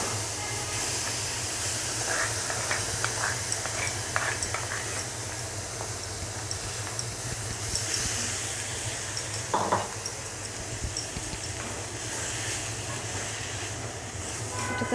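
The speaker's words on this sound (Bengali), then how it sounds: "চিংড়ি মাছটা আমি ঢেলে দিচ্ছি।" Shrimp sizzle and hiss steadily in a hot pan, a continuous crackling fry with occasional stirring clatter and no voices.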